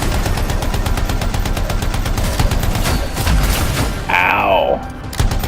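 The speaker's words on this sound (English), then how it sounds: "Oh, they're shooting at him too." Sustained automatic gunfire from enemies in Anthem, a loud rapid rattle of shots running nearly throughout, with a rising whine cutting in near the end and a voice speaking briefly under the shooting.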